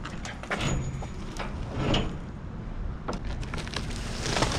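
Someone rattles and bangs a heavy door at a dumpster outdoors while trying to force it open. Irregular knocks and scrapes sound close over a steady rumbling background.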